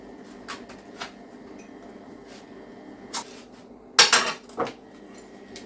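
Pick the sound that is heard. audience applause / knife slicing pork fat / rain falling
knife slicing pork fat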